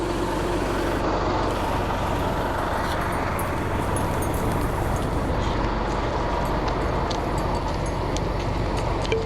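A bus idles and rumbles at a bus stop outside an apartment complex, a steady loud low engine drone with faint air-brake hiss and traffic noise, no talking.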